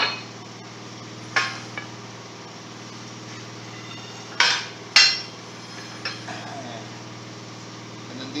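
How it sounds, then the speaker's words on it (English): Sharp metallic strikes from a Ken-Tool bead breaker hammer on a semi truck tire, several separate clanks spaced irregularly over a steady low hum, fairly close. "the bead breaker hammer. This is a Ken tool, my Ken tool bead breaker"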